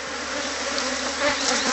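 Honeybees swarming at the entrance of a wooden hive box during a honey harvest, giving a dense, steady, close buzz that holds unbroken throughout.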